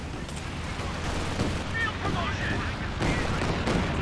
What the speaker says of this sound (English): The walking Stuka barrage decrews it again. The Calliope barrage.